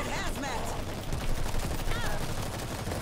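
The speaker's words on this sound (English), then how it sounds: "You shooting me?" Constant, dense gunfire in the zombie shooter World War Z, heavy overlapping automatic bursts with no pauses, with voices talking underneath the shooting.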